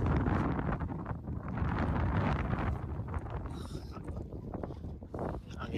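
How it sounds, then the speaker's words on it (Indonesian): Strong wind buffets the microphone at the Auckland lookout on the summit of Mount Eden, a loud, continuous low roar with gusty surges that never lets up. "Anginnya cukup kencang."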